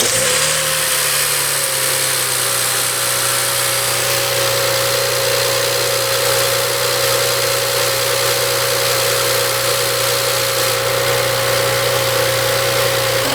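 A BMW 335i sedan, hooked up to battery cables while being checked for a charging fault, idles with a steady, loud mid-pitched engine drone and a constant whine, unchanging throughout.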